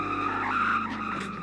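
Koenigsegg Regera braking hard from 400 km/h, tires squealing in a loud, close, sustained skid that fades slightly by the end.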